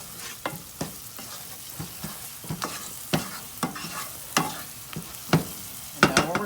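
Cayenne pepper is stirred into hot oil for a veggie soup, a spoon clacking and scraping in a pot at an irregular rhythm over a low sizzle, close and fairly loud.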